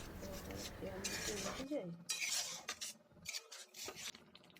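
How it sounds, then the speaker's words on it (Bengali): Doi katla masala, a Bengali curd-based fish curry gravy, stirred and sautéed in a pan, giving repeated scraping and rubbing of a utensil against the pan with light clatter, close and moderately loud, with no talking. "খুব ভালোভাবে পুরোটা আবারও মিশিয়ে নেব, কিছুক্ষণ কষতে থাকবো।"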